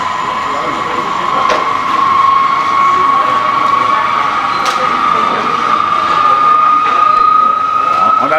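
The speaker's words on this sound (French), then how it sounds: "Le moteur tourne." A small model engine at a model-making show runs with a steady high-pitched whine that slowly climbs in pitch, with faint clicks and mechanical noise beneath it.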